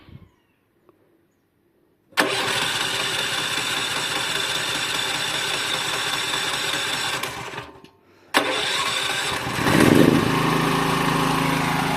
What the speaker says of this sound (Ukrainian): Тепер пробуємо його завести від ключа.